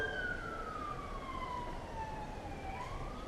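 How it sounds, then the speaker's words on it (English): A siren wails steadily in the distance, its tone gliding slowly downward and then rising again over a constant low rumble of background noise, with no voices. "yep, those are sirens."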